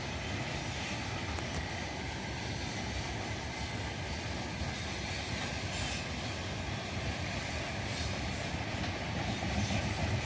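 Freight train with wagons carrying coal rolls past near Churilovo in Chelyabinsk, a continuous faint rumbling clatter of wagons with a light hint of wheel squeal, holding steady for about ten seconds.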